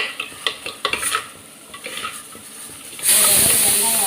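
Vegetables for sambar sauté in a pan, with several scraping stirs and clinks in the first seconds, then a sudden loud, steady sizzle and hiss as the cooking picks up.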